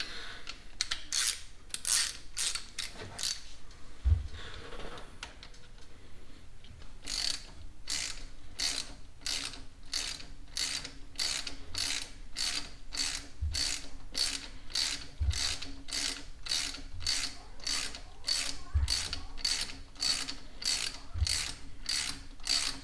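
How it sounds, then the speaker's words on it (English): A gear puller forces a cam gear for an R32 GTR engine over a tight woodruff key, producing a long run of sharp, evenly spaced ratchet clicks, close and loud, with a few heavier knocks among them. "this puller is going to force this cog over the woodruff key"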